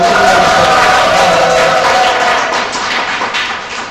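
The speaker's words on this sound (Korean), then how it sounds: "이 아이들 위해서 박수 쳐주시고" A Catholic church congregation gives loud, dense applause for children, a continuous wash of many hands with some crowd voices that eases slightly toward the end.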